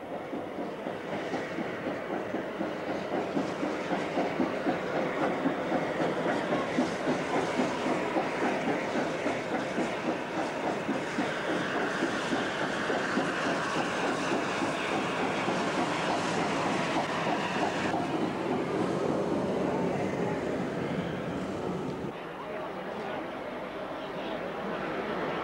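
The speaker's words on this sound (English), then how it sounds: "A bright red steam engine pulling a trainload of eccentric foreigners doesn't pull into this quiet little town every day." A bright red steam locomotive pulling passenger carriages rolls steadily along the rails at Freiburg, its wheels clicking rhythmically over joints at moderate distance, fairly faint and continuous throughout.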